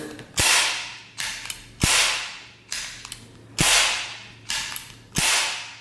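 Metallic mechanical clacks from a Luger P08 9mm pistol being handled and test-fired with manufactured ammunition: seven sharp, crisp transients with ringing decays, spaced roughly evenly over several seconds, close and loud, with no talking.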